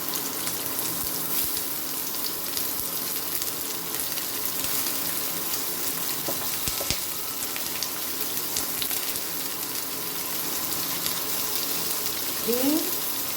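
Chopped onion fries in a pan with cumin seeds for a Goan spinach curry, giving a steady, close hiss and crackle that continues under faint voice.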